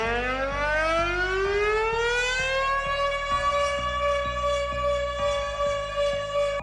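A Zero Drone civil defense siren winds up in pitch and holds a loud, steady wail, sounding continuously and alone.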